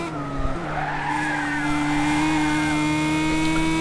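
A Lotus race car in a racing video game skids with a sustained tire squeal over a steady engine drone, loud and close, with no talking.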